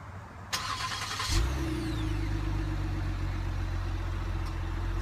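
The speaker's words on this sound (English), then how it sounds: "Sounds good from the dual exhaust on this new Explorer." A 2016 Ford Explorer Sport's 3.5-liter EcoBoost twin-turbo V6 with dual exhaust starts up after a sharp click, catches with a brief rev, then settles into a steady, close, deep idle rumble, with no talk.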